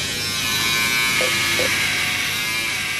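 A steady, loud electric shaver drones continuously while shaving off two weeks of beard growth at the end of an Everest trek, its buzz filling the whole stretch without any talking.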